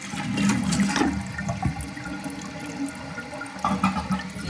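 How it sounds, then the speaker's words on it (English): Gerber Avalanche toilet, modified with a 2-inch opening, flushing with a loud, sustained rush of water that surges and swirls throughout, with gurgling bursts near the end and no voices. "And it is flushed out."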